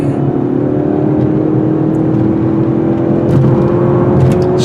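A 2017 Lincoln MKZ turbocharged engine in sport mode drones steadily with a rising whine as it accelerates, loud and continuous from inside the car, with a slight surge near the end.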